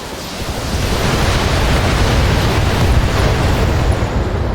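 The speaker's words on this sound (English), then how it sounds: "I'm just going to hit him in the front with all my missiles again" A salvo of missiles from a mech slams into an enemy mech's front armour in BattleTech, a loud, continuous roaring wash of blasts with no breaks.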